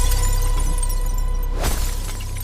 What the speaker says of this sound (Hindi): फिर एसयूवी की पिछली खिड़की पर अचानक कुछ टकराया।